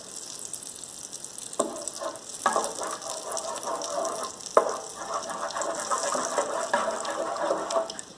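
Butter melting in a pan for chicken empada filling, a steady bright sizzle and frying hiss with occasional louder pops and crackles, close and continuous, without talk.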